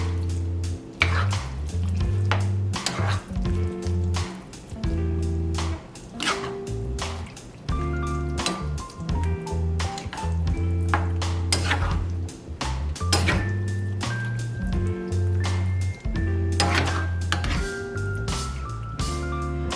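A spoon stirs whiskey into a pot of three-bean baked beans, giving a steady series of wet squishing, scraping strokes against the pot, close and continuous for the whole stretch.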